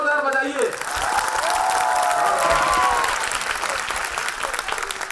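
Loud, dense applause from a crowd at a Holi celebration at Dev Sanskriti Vishwa Vidyalaya, Shantikunj, Haridwar, swelling into a steady roar of clapping with some cheering, just after a brief spoken call.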